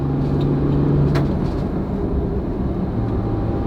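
A Ford Raptor with a broken differential cruises at 80 km/h, a steady close road and engine rumble with a faint whine inside the cab, and no talk.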